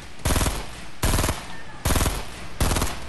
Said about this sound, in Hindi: इन लोग पे भी फायरिंग करो, फायरिंग करो।